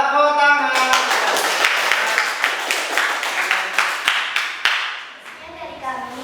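Classroom applause at the close of a student teaching presentation: a burst of many hands clapping, dense and fairly loud, thinning into scattered claps before a voice speaks at the end.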